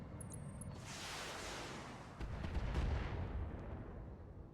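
Enemy weapon shots in the mech combat game BATTLETECH, a heavy burst of gunfire and impacts that swells, then a louder, deeper barrage follows around the middle before slowly fading.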